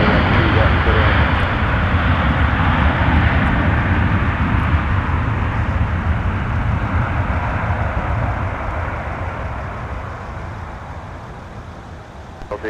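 Delta airliner arriving from SJD at Minneapolis–St. Paul airport in winter, a loud, broad engine roar that dominates throughout and slowly fades toward the end.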